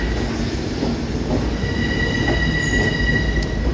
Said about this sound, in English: Train to Woodside, Penn Station, now arriving track 2.